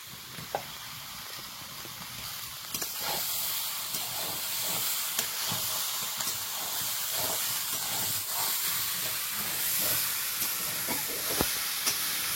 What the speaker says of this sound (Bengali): সুন্দর করে ভেজে নিচ্ছি